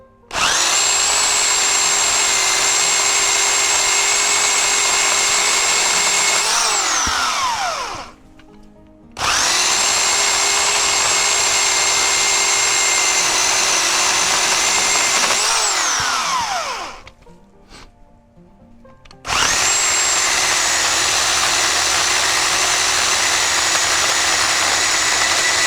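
Loud, close, high-pitched whine of a DekoPro electric pole chainsaw with a 10-inch bar, running in three long bursts that each wind down before it starts again.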